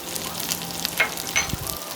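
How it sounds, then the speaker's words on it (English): Garlic browning in a hot pan as chopped celery and chive go in for a curry of soya chunks and pigeon peas, giving a steady broad sizzle with a few brief crackles and a soft stir toward the end. "When the garlic starts to brown, go in with some chopped celery and chive."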